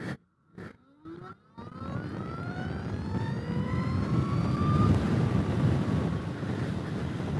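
A Zero SR/F electric motorcycle pulls away and accelerates with a rising electric motor whine. A few knocks are heard first, then the whine climbs in pitch under heavy wind rush, with no talking.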